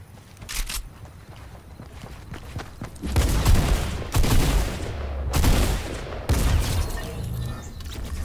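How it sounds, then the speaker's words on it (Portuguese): Gunfire in the Fortnite Battle Royale video game, several loud bursts of rapid shots separated by brief pauses, with quieter in-game rustles and footsteps between them. "Dei-lhe dois tiros"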